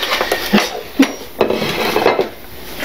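A plate being taken out and set down in a home kitchen while making chocolate pancakes: several sharp ceramic clinks and knocks, close and fairly loud, spaced irregularly over soft rubbing and handling noise, no talking.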